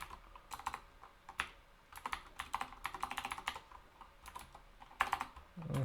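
Quick, light clicks of typing on a computer keyboard come in uneven bursts with short pauses between them, close and fairly quiet, with no talking.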